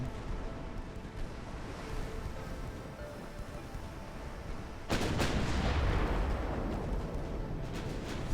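Naval guns firing in the warship strategy game Ultimate Admiral: Dreadnoughts, a dense rumbling barrage under constant battle noise, with a sharp louder salvo around the midpoint that lingers as a heavy roar.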